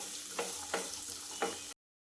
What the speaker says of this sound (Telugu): పచ్చి బఠానీ, క్యారెట్ ఇవన్నీ వేసుకొని కొంచెం ఫ్రై చేసుకోవాలి.